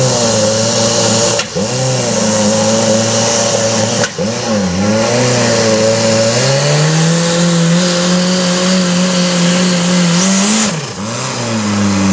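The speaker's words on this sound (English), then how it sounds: "You can hear the turbo beginning to spin." A heavy outlaw truck-pulling vehicle's engine roars loud and close while its turbo spins up in a rising whine, with pitch dips at each gear change and a sustained climbing drone underneath.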